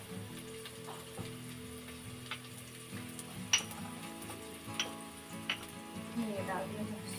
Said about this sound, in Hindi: अब मैं छोंक रही हूँ कढ़ी।